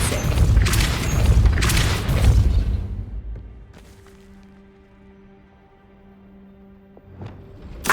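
A Depulso spell is cast in Hogwarts Legacy, setting off a heavy booming blast with crashing debris for a few seconds, followed by a quieter tonal hum and a sharp closing hit.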